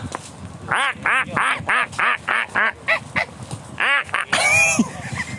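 A duck quacks loudly and repeatedly in a quick, even series of honking calls, close up, ending in a harsher flurry of noise.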